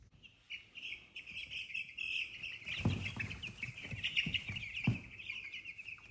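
Two-week-old White Ranger meat chickens cluck and peep steadily in a close flock, with a dense high chirping bed and several louder, sharper clucks standing out near the middle and end.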